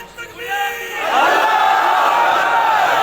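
A large crowd at the 40th Khatm-e-Nabuwat religious conference chants a slogan in loud unison, the massed voices swelling after a brief murmur and holding a sustained, echoing roar.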